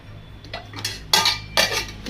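Metal pan and utensil clatter at a stove as a frying pan is set down for bitter gourd fry: a few quick knocks, then two louder, sharper clanks close by, with no talk.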